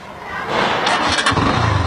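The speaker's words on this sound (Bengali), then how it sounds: "বাইক স্টার্ট হয়ে গেছে" A keyless motorcycle engine cranks briefly with an electric starter, then catches and settles into a steady, close idle.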